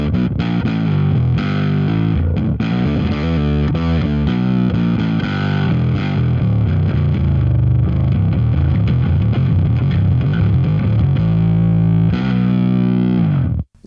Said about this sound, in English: blending in the fuzz with that, you really get some cool